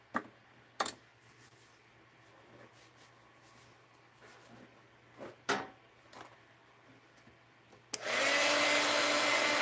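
A heat tool switches on near the end and blasts a steady, loud airy roar while melting wax onto thread, following a stretch of quiet handling with a few sharp clicks and knocks.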